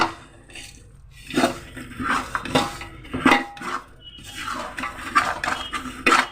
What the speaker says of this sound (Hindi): तो मैंने इसे अच्छे से मिक्स कर लिया है।